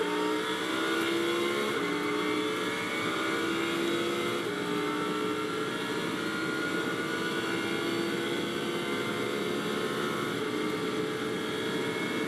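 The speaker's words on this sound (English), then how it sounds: "he goes right and left out of the chicane, accelerates on towards the Curva Grande once more" A Lamborghini Super Trofeo race car accelerates out of a chicane toward the Curva Grande at Monza during a European race, a loud, steady engine roar that holds with little change for the whole stretch.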